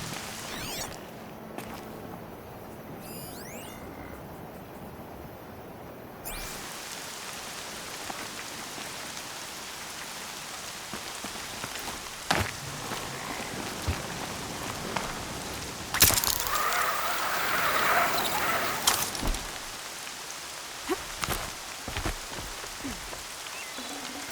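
Rain falls across the landscape in the video game Horizon Zero Dawn, a soft continuous patter with occasional brighter splashes and footstep-like rustles, swelling louder toward the end.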